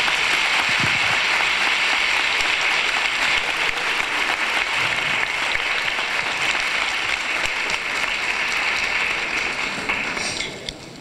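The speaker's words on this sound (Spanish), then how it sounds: "nos gustaría que dierais un aplauso a todas estas personas, pues, otra vez" A theatre audience applauding after a stage play, dense sustained clapping that fills the room at even loudness before thinning out near the end.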